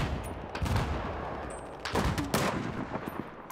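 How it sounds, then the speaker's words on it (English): Mortar and gunfire in a 32 vs 32 multiplayer shooter match, a dense run of sharp blasts and crackling shots, a few louder impacts standing out against a constant noisy battle background. "I'm waiting for more mortars to hit."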